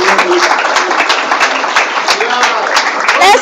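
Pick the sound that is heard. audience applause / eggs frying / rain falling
audience applause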